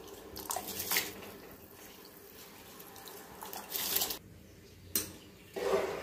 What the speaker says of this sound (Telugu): మనం ముందుగా నానబెట్టుకున్న బియ్యం అయితే ఎసర్లో అయితే వేసేసుకుంటున్నాను.